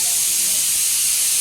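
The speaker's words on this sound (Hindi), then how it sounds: "परेशान कर दिया ना मम्मी कुकर की सीटी ने हमें" A pressure cooker whistle letting off steam in a home kitchen, a loud continuous high hiss that holds steady and close throughout without pause.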